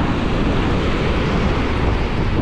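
Strong waves and gusting wind from Typhoon Carina in July 2024 make a loud, continuous, dense roar of surf and wind buffeting the microphone, with no pauses.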